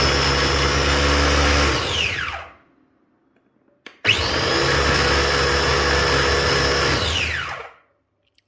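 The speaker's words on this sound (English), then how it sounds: "Now I will blend it." A Philips Avent 4-in-1 baby food processor whirs loudly in two bursts, each about three seconds, spinning up to a high whine then winding down, separated by near silence.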